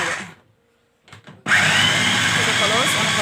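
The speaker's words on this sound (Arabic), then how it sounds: "وهنضرب كل المكونات دي كده مع بعض" An electric blender starts up abruptly after a brief pause and roars loudly and steadily, whirring through a garlic stuffing mixture meant for filling fish.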